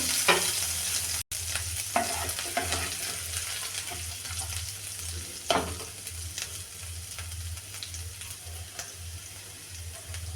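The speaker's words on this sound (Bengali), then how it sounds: "দিয়ে তেলের মধ্যে দিয়ে দেবো রসুন কুচি" Chopped garlic and ginger frying in oil for red sauce pasta, a soft continuous sizzle with frequent stirring scrapes and clinks, and a brief dropout near the start.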